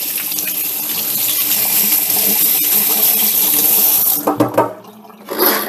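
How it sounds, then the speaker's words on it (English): Hands being washed under a running kitchen tap, a loud steady gush of water close by that breaks up into splashes and trickles as the flow is interrupted near the end. "Wash my hands a bit."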